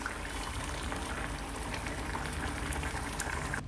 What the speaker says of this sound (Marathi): सर्वात शेवटी त्यामध्ये मीठ घातले आणि मी भाजी उकळण्याची वाट बघत बसले।